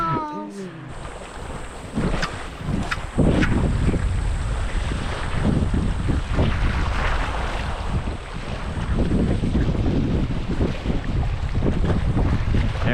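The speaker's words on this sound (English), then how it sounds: "There's a lot of wind with it." Strong coastal wind buffets the microphone in heavy, continuous gusts at the seaside on a family fishing trip, with surf rumbling underneath and faint voices breaking through now and then.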